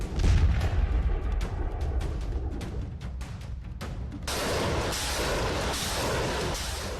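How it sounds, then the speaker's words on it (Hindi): Artillery cannon shells fired at an enemy fort during the Russia-Ukraine war: dense repeated booming blasts and crackling bursts, loud and continuous, with a rougher, brighter roar in the latter half and no voices. "दुश्मन के किले को तोपों के गोलों से ध्वस्त किया जा रहा है।"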